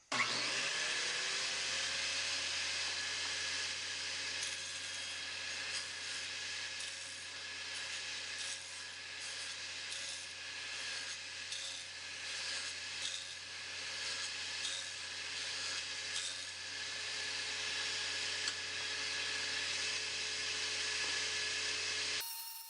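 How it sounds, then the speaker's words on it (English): A power saw with a dado blade cuts an entrance into a wooden 10-frame migratory beehive bottom board, giving a continuous high whine and rasping cut that runs steadily throughout. "So we'll just cut the entrance for half of them."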